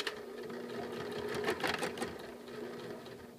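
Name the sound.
sewing machine stitching fabric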